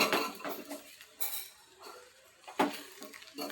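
A spoon stirring uggani, a Telangana puffed-rice dish, in a pan, with a few short scraping and clinking strokes against the metal and quiet pauses between them, close and moderately soft.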